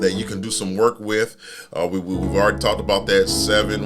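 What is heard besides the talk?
No everyday noise stands out behind the speech.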